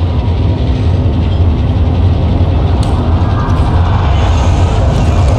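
A train rumbles past loudly in the video game Call of Duty Modern Warfare, a dense, continuous rolling roar with faint metallic rattles, close and unbroken throughout.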